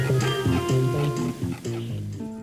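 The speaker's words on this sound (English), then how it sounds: "there's this retro-looking jukebox" Retro jukebox music from the Luigi's Mansion 3 video game plays in the family room: a bouncy melody with a steady bass line and rhythmic accompaniment, clear and alone throughout.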